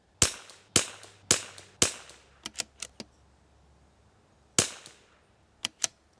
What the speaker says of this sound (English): we're gonna shoot it anyway.